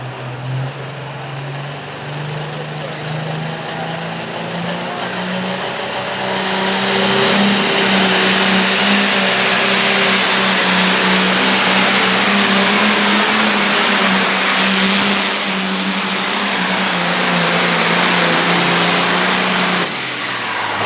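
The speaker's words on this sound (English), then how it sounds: "This is a powerhouse of a tractor, folks" A powerful pulling tractor roars at a county fair tractor pull, its engine rising and holding a loud, strained rev close by, a sustained heavy drone with shifting pitch and no speech over it.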